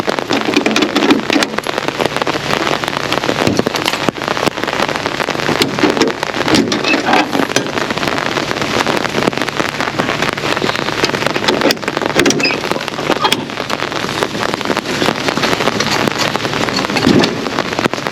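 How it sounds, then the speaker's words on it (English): Steady rain falls outdoors beside a house under renovation, a dense, continuous patter with some wind buffeting the microphone and no voices. "So it's raining."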